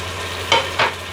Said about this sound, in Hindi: अब मैं इसमें टमाटर और हरी मिर्ची डाल देती हूँ